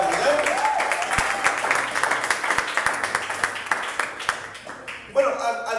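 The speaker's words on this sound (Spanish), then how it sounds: "Denle ese aplauso al Señor en esta mañana." A church congregation claps for a few seconds in a steady patter of applause, with a speaking voice and some low tones mixed in before a louder voice returns at the end.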